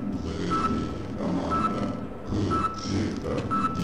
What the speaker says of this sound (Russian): Откуда пикает?